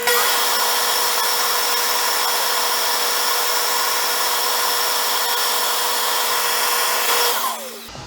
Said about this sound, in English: Now we can turn it down to the bushings without really worrying about it.